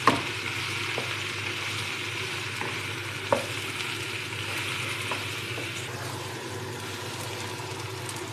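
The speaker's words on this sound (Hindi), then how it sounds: "साथ ही हम इसके शामिल करेंगे प्याज और अभी हम इसको मज़ीद पाँच से सात मिनट तक फ्राई करेंगे" Okra and onions fry in a pan for bhindi sabzi, a soft continuous sizzle with a few sharp stirring knocks against the pan, no talking over it.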